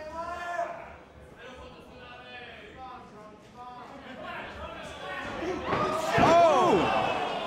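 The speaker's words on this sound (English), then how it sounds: "But it's Jonah and slams him down." In a professional wrestling ring, one wrestler slams an opponent onto the mat, a single heavy thud near the end that rises under excited commentary and crowd noise.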